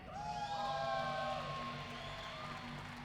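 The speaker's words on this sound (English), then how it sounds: "Keep that applause going" An arena crowd at the 2019 North American Olympic Trials women's team table tennis event cheers for Team USA, with steady sustained noise and high, sliding whoops and whistles rising over it for about three seconds, with no clear talking.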